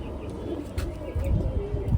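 Pigeons coo close by at a breeder's loft, soft low throaty rolling calls, one bird rising in a longer coo toward the end, over a faint background hum.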